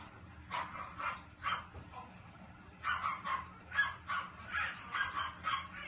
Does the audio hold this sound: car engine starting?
no